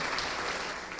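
Church congregation applauding together, a brief, even burst of many hands clapping at moderate distance.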